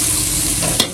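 Onions frying in a pan in a home kitchen, a steady close sizzle with a brief stirring scrape near the end, no talking.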